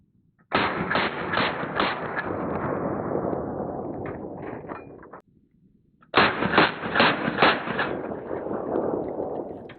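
Two loud bursts of rapid rifle fire, 7.62x39 hollow point steel-jacketed rounds from a Mark 111 PWS, shot at a body armor plate outdoors, each burst followed by a rolling echo.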